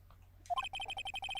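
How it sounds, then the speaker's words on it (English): A phone ringtone from the Ace Attorney video game sounds as a rapid, pulsing electronic trill of short repeated beeps, close and clear, with no voices. "I heard a phone ring just now."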